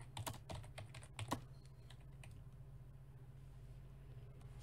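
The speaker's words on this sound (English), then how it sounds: "Sorry about my horrible typing." Computer keyboard typing during chess commentary: a few quick bursts of close, crisp keystrokes in the first second and a half, then only a low steady hum.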